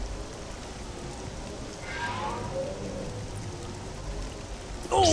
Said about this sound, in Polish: Ah, this rain's like acid.